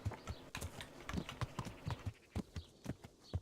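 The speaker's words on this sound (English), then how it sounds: "Horsey." Horse hooves clip-clop in a steady, fairly close walking rhythm in the medieval game Kingdom Come: Deliverance, the regular thuds heard alone with no talk.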